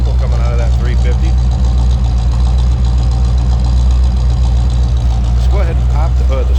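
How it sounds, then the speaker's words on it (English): A 1981 Chevrolet Corvette coupe with a 350 V8 idling, a loud, steady low rumble close by, while someone talks over the engine. "Like I said, good sounding car. A little rumble coming out of that 350."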